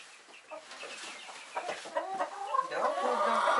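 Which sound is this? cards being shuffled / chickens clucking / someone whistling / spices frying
chickens clucking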